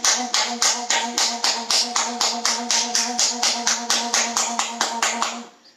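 Steady rhythmic hand clapping during a yoga exercise session, about twenty loud, evenly spaced claps by a group, fading out at the end.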